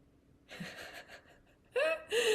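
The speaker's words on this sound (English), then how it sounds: "Is that your dog snoring?" A dog snores close to the microphone during an online meeting, with raspy, breathy inhalations; the last two are louder and rougher than the softer ones before them.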